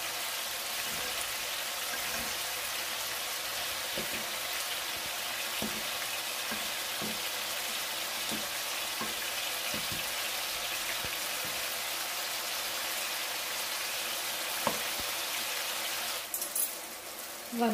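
Minced meat balls frying in a pan, a quiet, steady sizzle with faint scattered pops and taps, ending with a brief clatter.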